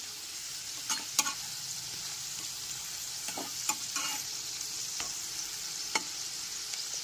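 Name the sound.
potatoes frying in oil in a pan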